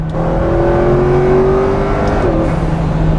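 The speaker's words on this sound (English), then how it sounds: "The speed is unreal, instantaneous. Absolutely amazing. The handling is just fantastic. The car is tremendously quick to respond." Heard from inside, a McLaren Speedtail hypercar accelerates hard, its loud engine tone climbing smoothly and then dipping briefly at a gear change, with a high electric whine running above it.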